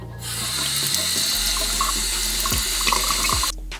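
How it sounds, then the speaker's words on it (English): Water from a tap runs steadily into a sink to rinse a makeup brush, a continuous close splashing rush that stops abruptly near the end. "afterwards I'll run it down with water"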